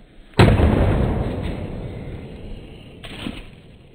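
An Enola Gaye paint grenade detonates outdoors with one loud, sudden burst that fades slowly, followed by a smaller second pop.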